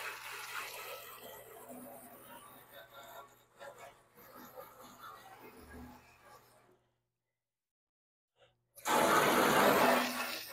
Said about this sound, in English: Now we can wash her down.